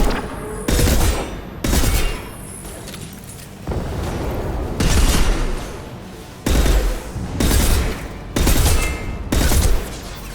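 Sniper rifle fire in the Mass Effect video game: loud, sharp bursts of gunfire come in blocks of a second or so, separated by brief pauses, with about eight volleys over ten seconds and no talking.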